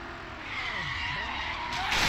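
A car in the Carmageddon Reincarnation driving game skids with a steady, loud tire squeal over engine drone, driving into oncoming traffic. The squeal sweeps in pitch and swells louder toward the end.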